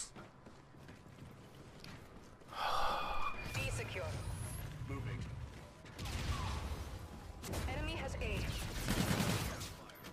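Gunfire and effects from a multiplayer shooter match come in bursts with bright mechanical clatter while players talk excitedly over the action throughout.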